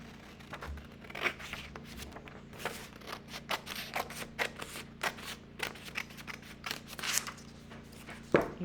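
Scissors snip through folded paper while a small craft flower is being made, a quiet series of short crisp cuts with light rustling, close by and with no talk.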